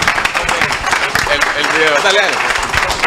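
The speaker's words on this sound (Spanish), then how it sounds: "Aplausos, por favor." Audience applause at a forestry corporation executive's presentation, scattered clapping running under someone speaking Spanish in the foreground, moderately loud and continuous.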